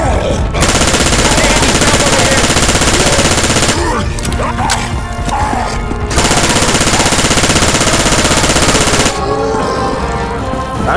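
Sustained automatic gunfire from Left 4 Dead 2 survivors fighting on a bridge, loud and dense for long stretches with brief gaps, under frantic shouting.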